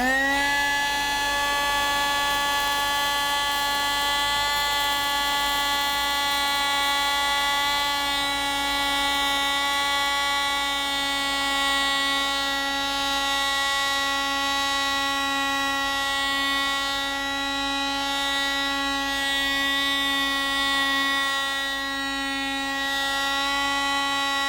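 Casdon Hetty toy handheld vacuum cleaner running, a steady high-pitched electric whine with a constant tone that holds unbroken and loud for the whole stretch, with no talk over it.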